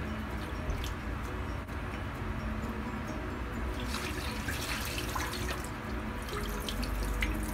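Tap water runs steadily into a sink while sweet potato tops are washed for a juice, with a constant splashing rush and a few brief drips and knocks.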